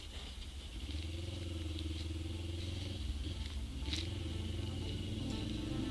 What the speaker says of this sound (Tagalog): We are reviewing the Z400 of Pops Donald.